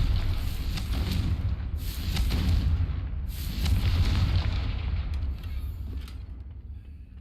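A Confringo fire spell goes off in Hogwarts Legacy: a deep, rumbling boom swells and rolls on for several seconds, with crackling bursts riding on top before it slowly fades; no voices.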